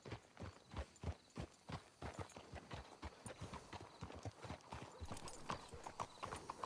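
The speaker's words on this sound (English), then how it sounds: "Let's hitch the horses up ahead." Horse hooves clip-clopping in Red Dead Redemption 2, a steady rapid run of hoofbeats from several horses, fairly close and continuous, with no talk over it.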